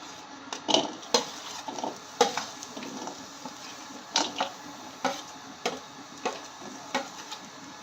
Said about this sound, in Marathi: कटाची आमटी बनवण्यासाठी पहिल्यांदा आपण कांदा खोबरं फ्राय करून घेणार आहोत